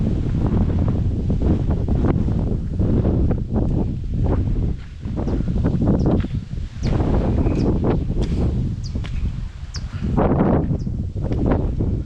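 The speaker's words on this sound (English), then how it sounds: "It's quite a bit windy, but gonna forge on," Strong gusts buffet the microphone outdoors in Alaska around sunrise, a loud, steady rumbling roar that runs the whole time with brief dips between blasts and no one speaking.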